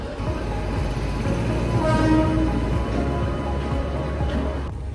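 Train at a railway station in India, a steady loud rumble of railcars with a horn-like tonal drone running throughout, continuous and close, no voices.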